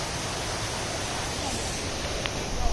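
Kawai waterfall in Kaghan, Pakistan, gives a steady broadband roar of rushing water, constant and even throughout with no pauses, and faint voices murmur beneath it near the end.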